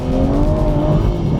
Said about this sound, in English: You hit the sport button and it makes the gear shifts a lot crisper, and it makes the car sound